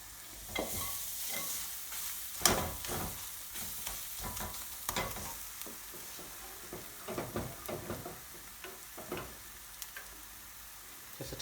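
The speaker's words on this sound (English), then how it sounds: "What we do now, we cook our spice out." Garlic and spices fry in a hot pan for a BIR-style chicken aloo Madras curry, a steady close sizzle broken by repeated scraping stirs of a utensil against the pan, with no talk.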